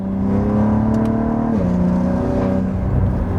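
A 700HP Cadillac ATS-V in track mode, its engine droning loud and close at a steady pitch, then dropping sharply in tone midway before holding a lower steady hum.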